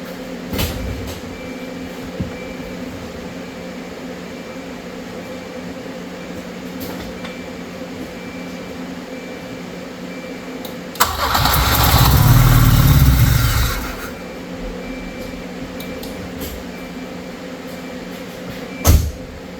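A Volvo car engine cranks and briefly catches on carb cleaner, a loud rumbling burst of a few seconds amid a quiet garage, with a sharp knock near the end.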